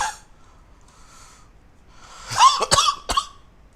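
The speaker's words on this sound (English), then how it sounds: "I'm so sorry. I'm getting cough." A quiet breathy stretch, then a few sharp close coughs in quick succession near the end.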